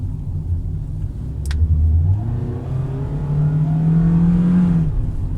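Loud, close revving of a Toyota Vios engine, the pitch sweeping upward and holding high as the car is pushed without gaining much speed, over a steady low rumble.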